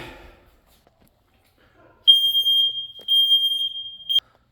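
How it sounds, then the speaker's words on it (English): A household smoke detector on a wall gives a shrill, loud electronic tone held for about two seconds with brief dips, cutting off abruptly in an otherwise quiet room. "you got another smoke detector there"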